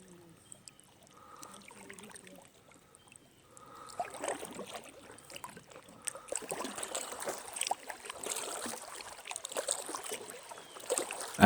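Kayak paddling on Grayson Lake in Kentucky, soft paddle strokes and water sloshing close by, quiet at first and then busier splashing and dripping in the second half.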